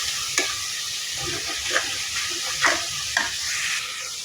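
Spices for a fish curry fry and sizzle in a pan with chili powder and vegetable masala, a steady crackle broken by a few sharp scrapes of stirring, close and moderately loud, with no talking.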